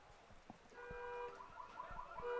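A car alarm sound effect played over a stadium public address system at a high school baseball game, its warbling tones cycling faintly and distantly under the crowd noise.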